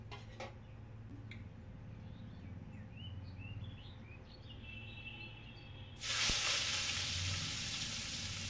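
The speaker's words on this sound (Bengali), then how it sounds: "তো চলো থোরটা একটু ভাজা করব" Banana stem is tipped into a pan with a mustard-seed tempering and bursts into a loud, steady sizzle after a quiet stretch of faint kitchen noise and distant bird chirps.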